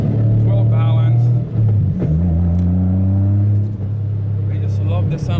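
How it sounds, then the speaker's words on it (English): A Toyota 1JZ engine fitted in a Nissan S13 drones and revs nearby, its pitch dipping and rising over several seconds, with someone talking over the steady engine hum. "I just love the sound of the 1JC."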